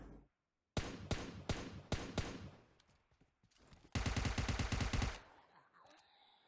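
Gunfire while fighting zombies in PUBG Mobile: a string of separate heavy shots roughly every few tenths of a second, then a rapid automatic burst lasting about a second, loud and close.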